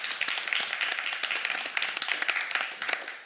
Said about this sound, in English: Can we give Michael a hand of applause?